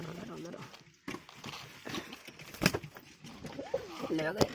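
Pigeons coo in a loft at feeding time, including a male, with soft repeated warbling calls heard under a person talking, plus some clattering and rustling nearby.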